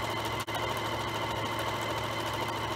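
A sewing machine stitches a strip-pieced quilt-as-you-go table runner with a quarter-inch seam, a steady close motor whir running unbroken apart from one brief dip near the start.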